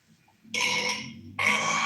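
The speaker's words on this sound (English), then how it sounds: "Some people think a burp smells worse than a fart." A burp in a podcast studio: a faint low rumble, then two loud, raspy, close bursts, the second following about a second after the first, with no talk over them.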